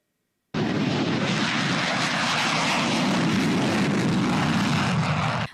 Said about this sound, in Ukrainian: Довгоочікувані винищувачі F-16 уже в українському небі.